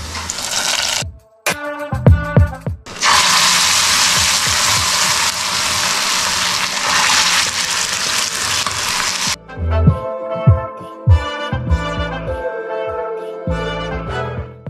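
Hot tempering of onion, dried chilli and curry leaves pours into a curry and sets off a loud, hissing sizzle that lasts around six seconds. Clinks and scrapes of utensils come before and after it.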